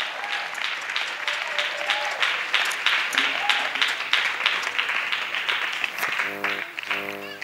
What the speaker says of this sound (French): Oui, acclamez encore. Yes, clap again.